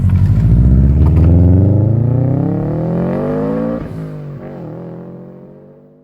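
A JDM bug-eye Subaru WRX STi with an EJ207 engine revs loudly up close, the throaty rumble climbing steadily in pitch over several seconds before easing off and settling back down, alone without talk.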